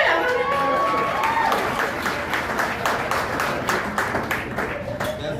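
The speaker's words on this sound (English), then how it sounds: "keep clapping up for y'all" Audience applause at a live stand-up comedy show, a dense roar of many hands clapping that holds steady and then slowly thins, with some crowd noise and voices mixed in.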